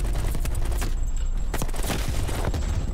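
An AK-47 fires in the video game Black Ops Cold War, a loud, dense run of rapid gunshots with crackling impacts filling the whole stretch, no voices over it.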